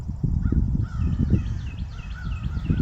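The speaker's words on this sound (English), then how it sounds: "A little distracted by these crows that are talking to us." Crows caw repeatedly outdoors, a series of harsh calls from more than one bird, moderately near over a rumbling low background.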